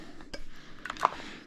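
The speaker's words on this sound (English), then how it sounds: "that was the sound of the fiber optic plug" A fiber optic plug pulled from its socket while setting up a desk, giving a few small plasticky clicks and ticks, one sharper click near the end, faint and close against quiet room noise.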